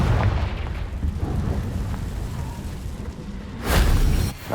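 A Confringo blasting spell exploding in Hogwarts Legacy, heard as a loud booming burst near the end over a steady rumbling game background, close and forceful.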